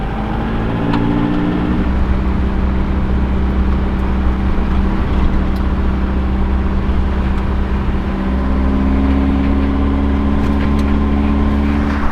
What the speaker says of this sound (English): That and our alternator belt is squealing quite a bit.